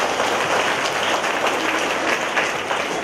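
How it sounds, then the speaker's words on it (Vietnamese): A church congregation at a Divine Mercy service gives a loud, dense round of applause that carries evenly for about three seconds. "Chúng ta cho một tràng pháo tay thì anh xem."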